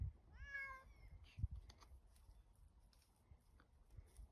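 A cat gives a single clear, rising-and-falling meow near the start, followed by soft rustling and small handling noises in an otherwise quiet room.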